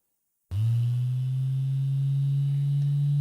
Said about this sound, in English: that's a vibration. That is the sound of the LX3 Plus prostate stimulator